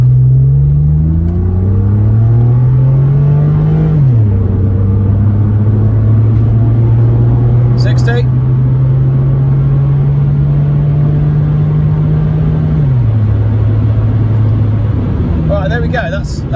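A Mitsubishi Galant 2.5 V6 accelerates hard through the gears from inside the car, its loud engine note climbing, dropping at each shift, then holding a steady drone before another change.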